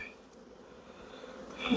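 Honeybees at a hive with supers being shaken out drone in a soft, steady buzz that swells louder near the end, with no talk over it.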